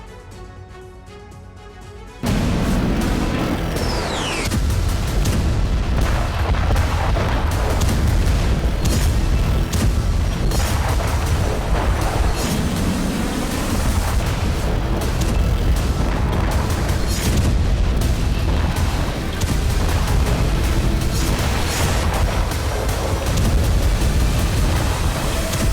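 Bombing explosions in Syria, a loud, dense barrage of booms and blasts that rolls on continuously for over twenty seconds after a short quieter opening.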